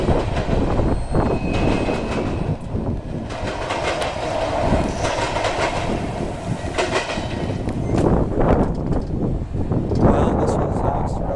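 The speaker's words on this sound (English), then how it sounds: "Canadian National Ethenol train in Plant City, Florida" A Canadian National freight train hauling ethanol tank cars rolls past in Plant City, Florida, loud and close, with steady wheel rumble, clickety-clack over rail joints and occasional wheel squeal throughout.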